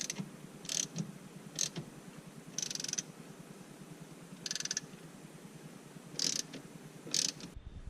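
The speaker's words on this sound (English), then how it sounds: "now just to tighten up these torque screws" Torx screws on the steering column of a 1992–1996 Ford F150 are tightened by hand during a clock spring replacement; a soft, steady ratcheting clicks throughout, broken by several brief, brighter metallic bursts.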